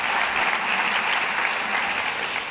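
Audience applause at a high school scholars awards ceremony, a steady wash of many hands clapping at full strength throughout, easing slightly at the very end.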